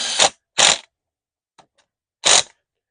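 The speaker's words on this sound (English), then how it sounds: "So I'm just setting these screws" A screw gun drives screws into greenhouse high tunnel end wall framing in three short, sharp bursts, loud and close, with a faint tick between the second and third.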